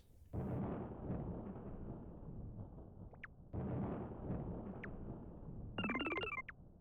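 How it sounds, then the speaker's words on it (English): In the Yume Nikki video game, a rain effect triggers lightning and thunder: two long, loud rumbling bursts over steady rain noise, then a quick cluster of bright ringing tones near the end. "now that it's raining, you can use a special effect and it should show some lightning or thundering"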